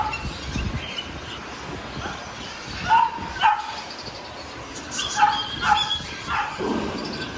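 Dogs bark in short yappy bursts, several in quick succession with brief gaps, fairly near over a steady background hum at a pet market in Cartimar.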